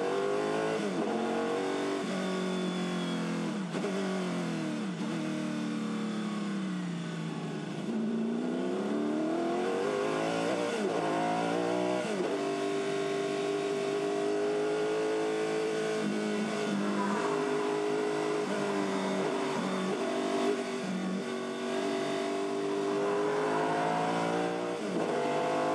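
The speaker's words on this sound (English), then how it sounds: "Let's have a listen to this car and the acceleration out of the corner." A Formula 5000 race car engine roars continuously in New Zealand, its pitch sweeping up repeatedly as it accelerates out of a corner through gear changes, loud and close throughout.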